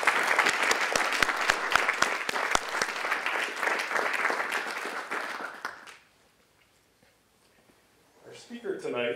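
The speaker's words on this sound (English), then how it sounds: "let's give them a round of applause" Loud audience applause at an evening lecture, many hands clapping for about six seconds before cutting to near silence, after which a voice begins speaking.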